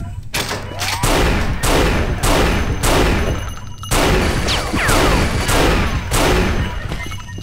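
Minigun fire in the game Unreal comes in long, dense bursts of rapid automatic shots, repeated again and again with brief gaps between them. It is loud and close, with no talking over it.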